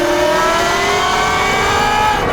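A Talaria MX5 electric bike accelerates hard on a trail, a loud close steady whine of rising motor tones with wind rush throughout.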